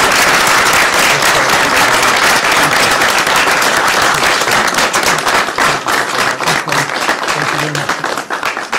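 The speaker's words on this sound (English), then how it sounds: "And now you can applaud a great day in the state of Washington." Sustained, loud applause from a crowd at a governor's bill signing in Washington state, dense clapping throughout that thins slightly toward the end, with voices mixed in underneath.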